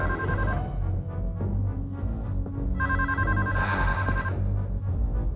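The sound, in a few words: telephone ringing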